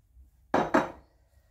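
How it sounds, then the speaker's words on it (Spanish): Two sharp clatters of a utensil against a bowl while shrimp ceviche with cilantro is stirred, close and loud, a quick pair of knocks followed by a brief fading ring. "Ahora los vamos a revolver para que se esparzan por todos lados."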